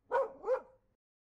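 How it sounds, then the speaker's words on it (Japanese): Two sharp barks from a free-roaming dog beside a narrowing upstream river road during a motorcycle tour in Japan, close and fairly loud, followed by silence and a brief low thump at the end. "犬だ"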